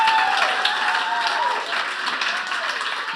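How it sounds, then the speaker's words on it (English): Poetry slam audience giving a round of applause, a moderate, continuous spread of clapping with some faint voices and tones mixed in underneath. "Can we all give her a round of applause"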